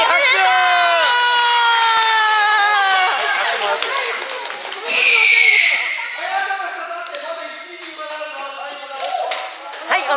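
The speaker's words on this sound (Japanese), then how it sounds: "3位。 拍手。" A small group of excited voices shouts and cheers after a third-place result is announced, with a short burst of clapping and louder cheering partway through and talking carrying on around it.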